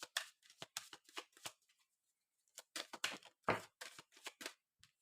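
Oracle cards shuffled by hand for a reading, a quick series of close, crisp riffling bursts with a short pause in the middle before the shuffling resumes.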